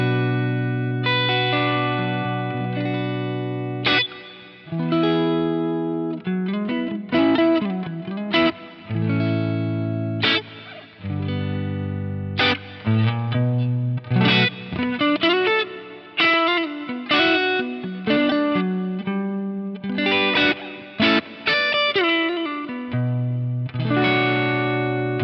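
Electric guitar played through a drive pedal with light grit and a touch of reverb, ringing sustained chords and melodic phrases with short pauses, loud and close, no talking.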